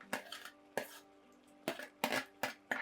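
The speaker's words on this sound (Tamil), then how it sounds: "இந்த வெண்டைக்காவையும் இது கூட சேர்த்து நல்லா கலக்கி விடுங்க" Okra is stirred into a simmering pan with a metal spoon, several sharp clinks and scrapes against the pan in irregular bursts, close and fairly quiet, with no voices.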